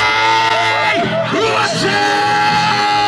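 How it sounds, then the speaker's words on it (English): A crowd at a beach party at a resort in Runaway Bay, Jamaica, yells and whoops loudly and steadily, with a live band playing and voices shouting close by. "lot of screaming"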